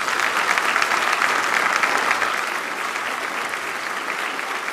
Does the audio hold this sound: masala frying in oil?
no